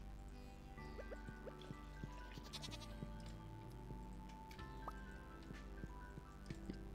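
Soft bleats of sheep in the farming game Stardew Valley, a few short calls over faint, quiet game ambience with light dripping and tonal background sounds.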